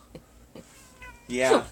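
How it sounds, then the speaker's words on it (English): A pet cat gives one loud, drawn-out meow near the end, after a few quiet household sounds. "Oh, here's our cat, Moses."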